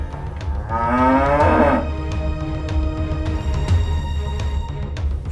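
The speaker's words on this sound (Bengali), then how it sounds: "শুভ্র ও গরু নিয়ে আসলো কোত্থেকে?" A cow lets out one loud, drawn-out moo near the start, with harmonics that rise and then fall, heard in the setting of a drama scene. After it there is steady low background noise and no talking.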